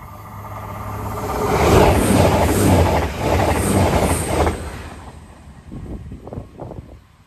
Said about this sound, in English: Next service pass through is the longest train journey in the UK, Aberdeen to Penzance,